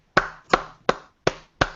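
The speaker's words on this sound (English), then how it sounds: "Who's clapping? That's me." Five sharp, evenly spaced hand claps about a third of a second apart, close and loud, standing alone with no talk.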